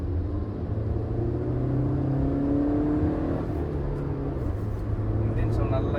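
Kia Carens Clavis engine accelerating during a test drive, a steady close rumbling whir with rising revs heard from inside the car, continuous and fairly loud.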